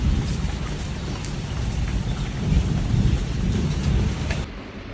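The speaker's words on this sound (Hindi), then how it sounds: "आवाज़ देखो कितनी तेज़ है बारिश की" Heavy rain pours steadily with a deep rumble of thunder underneath, forming a loud, continuous roar with no pauses.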